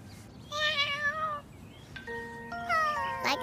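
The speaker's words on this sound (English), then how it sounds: "Like a cat's meow." A cat meows twice, loud and close, with a drawn-out, wavering cry followed by a second longer, rising call, heard alone over faint background noise in a children's show.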